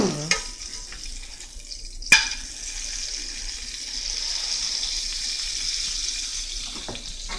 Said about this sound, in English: frying some burgers and stuff like that.